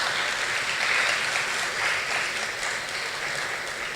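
Parents in the audience at a torch lighting ceremony give a sustained round of applause, a thick, even roar of many hands clapping at fairly high volume, with no talking over it.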